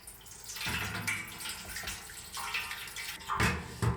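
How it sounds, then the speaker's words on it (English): Water poured from a tap into a high-rimmed metal baking tray, a steady close splashing and rushing that swells and eases over a few seconds, with a couple of louder sloshes near the end. "we want to fill in some water into the tray"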